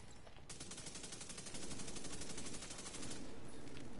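Light machine gun in a video game firing a sustained rapid burst, loud and close, with a brief pause before the rattle resumes and continues to the end.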